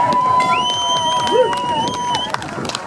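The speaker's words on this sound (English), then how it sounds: "The crowd are liking that" A crowd cheers at a jet ski freestyle championship round in Doncaster, a sustained roar of voices with whistles and tonal engine or horn sounds running across it, loud and continuous.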